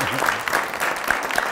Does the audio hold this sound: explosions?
no